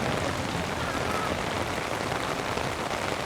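Heavy rain pours steadily through a city street in the Dotonbori area of Osaka, Japan, a dense, even wash of falling water and splashing that stays loud and constant from start to finish.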